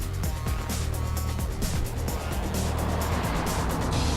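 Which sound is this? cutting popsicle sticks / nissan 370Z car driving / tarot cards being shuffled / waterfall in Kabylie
nissan 370Z car driving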